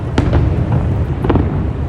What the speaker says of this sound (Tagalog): It's a 15 minutes fireworks display.